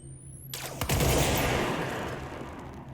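A gunshot fired at a target in the video game Control, heard as a sharp burst that fades into a rumbling, echoing tail over a low background hum.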